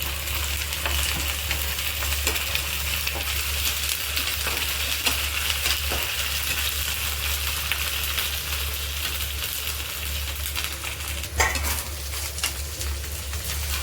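Ginger garlic paste frying with onions in a pan gives a steady, close sizzle throughout, broken by occasional light spoon scrapes and one sharper clink of utensil against pan near the end; no voices.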